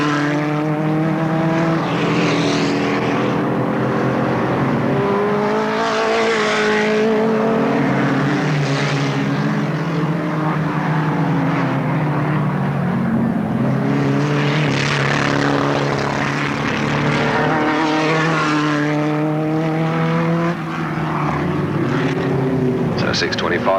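Race cars lapping at Alwalton Raceway, a loud continuous engine drone that rises and falls in pitch as cars pass repeatedly, with commentary talking over it throughout.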